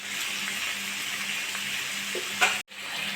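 Cut potatoes fry in a pan with salt, a steady close sizzle and hiss, with a few clinks and a scrape of stirring before a brief cut to silence and the sizzle returns.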